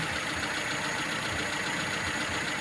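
A carburetor engine, just repaired and tuned with reworked diffusers, idles steadily and smoothly, its even running hum continuous and fairly close, with no talking.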